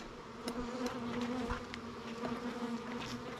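Several bees buzz close by in a steady drone with a few louder passes rising and falling, no talking.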